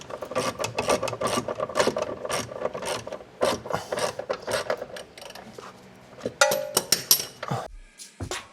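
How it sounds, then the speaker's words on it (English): A ratchet wrench cranks on the 22 mm control arm bolts of a Mercedes 300E 3.4 AMG, giving rapid, close metallic clicking in repeated bursts that ends with a few sharper clanks. "we're loosening the control arm bolts here"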